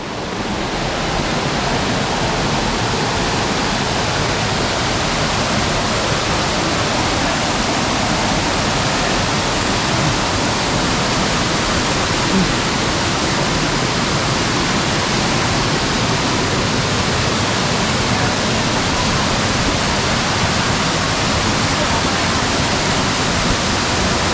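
A waterfall in Belaichhari, Rangamati, roars continuously nearby, a broad, unbroken rush of falling water that stays loud and even from start to finish.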